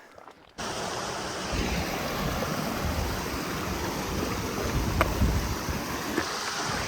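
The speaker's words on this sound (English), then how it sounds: "we have made it down to the Carbonado River" The Carbonado River rushes steadily on a long hike, a dense broadband roar of flowing water with some wind buffeting the microphone, loud and continuous after a brief quiet start.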